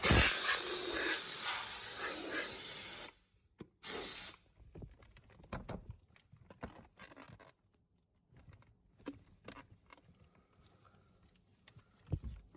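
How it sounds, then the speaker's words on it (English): A steamer blasts hot steam onto a weak plastic lid in a long, loud, close hissing spray, followed by a short second burst, then scattered faint clicks and handling noises. "But here I'm gonna steam it just a little bit."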